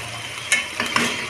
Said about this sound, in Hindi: लेकिन पहले मैं इसमें डालूँगी ऑयल